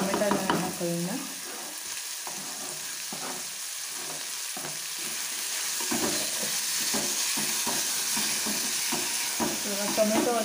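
Onions and tomatoes fry in a pan for egg bhurji, with a steady close sizzle and repeated scraping stirs of a spatula running through the whole stretch, no voices over it.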